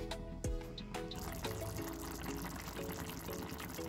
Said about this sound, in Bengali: চলুন তরকারিটা একটু ফুটুক ভালো করে